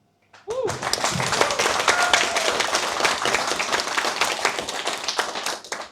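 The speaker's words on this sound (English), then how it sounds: "thank you for applauding a film you haven't seen it" An audience at a film event applauds the team who made the film, dense sustained clapping from many hands starting suddenly and fading near the end.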